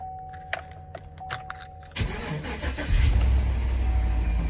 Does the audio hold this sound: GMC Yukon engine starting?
yes